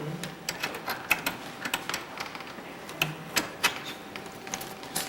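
Lead screw of a homemade wood-turning contraption with a router being engaged: a run of sharp mechanical clicks and clacks, irregular and fairly close, over a steady faint hum.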